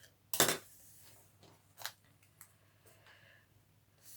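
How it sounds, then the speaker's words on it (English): A few sharp snips of scissors cutting paper card edges, one loud cut followed by two or three quieter ones, close by in an otherwise quiet room. "I'm just going to snip the edge of that one"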